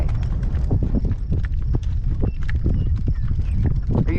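Hooves clip-clop in a steady, rapid rhythm as a horse trots close by, loud and continuous, with wind noise underneath and a voice in the background.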